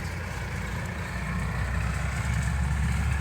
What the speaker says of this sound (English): you'll just have to excuse me, a tractor's going past.